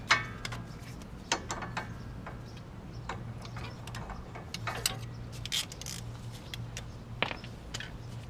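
A socket wrench ratchets on an upper control arm nut of a 2004 GMC Savana 2500 van, giving faint, irregular clicking and metallic ticks over a low steady hum.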